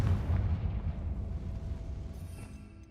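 A Confringo fire spell bursts in Hogwarts Legacy with a heavy, booming blast that rumbles loudly and slowly fades over a few seconds, with no voices.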